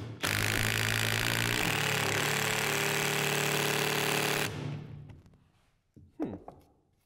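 A Bosch 18V-210 C cordless impact driver drives a larger screw, a loud continuous hammering rattle lasting about four seconds before it stops and fades into quieter knocks and handling sounds.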